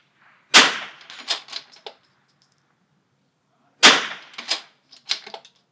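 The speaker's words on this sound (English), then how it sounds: "Gonna close bolt because I'm ready to fire." A bolt-action .22 rifle fires in an NRL22 match, with two sharp close reports about three seconds apart, each followed by brief metallic clatter.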